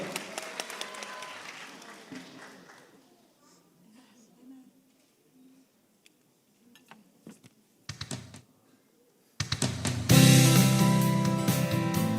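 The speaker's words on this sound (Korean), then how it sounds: "큰 박수 부탁드립니다." A church congregation breaks into loud, dense applause at the end of the clip, following a quiet stretch with a few scattered claps and murmurs at a Christmas celebration.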